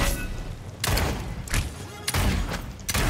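Gunfire in the Realm Royale video game comes as several loud broadband blasts spaced under a second apart, with thuds between them and talk over the action.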